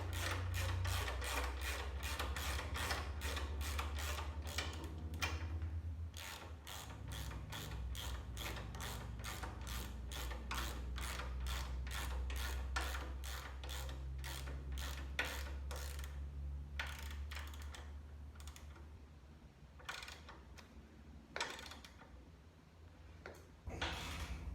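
A hand ratchet clicks rapidly and steadily while tightening bolts on a Shovelhead motorcycle shock absorber, close and loud, with repeated bursts of clicking broken by short pauses near the end and no talking.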